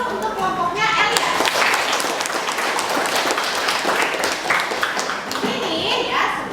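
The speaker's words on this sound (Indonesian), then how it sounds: "Kita berikan aplaus untuk kelompoknya Elia." Classroom applause for a student group, many hands clapping steadily for several seconds, with children's voices chattering through it.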